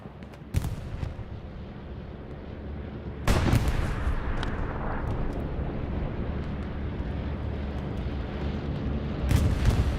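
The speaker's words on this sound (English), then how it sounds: "Bomber run coming in." A World War II video game bombing run sets off heavy explosions: one sharp blast early, then a huge booming impact that rolls into a long rumble, and another burst near the end.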